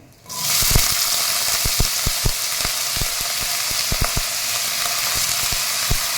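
Soaked, drained potato slices hit hot oil with bloomed cumin seeds and sizzle loudly and steadily, with irregular clicks and taps of stirring throughout.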